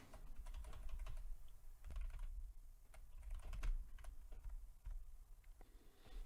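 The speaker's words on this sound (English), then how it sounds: "I'm going to use my arrow keys on the keyboard" Arrow keys on a computer keyboard are pressed in a quiet, irregular run of light clicks, some singly and some in quick bursts, against a soft background.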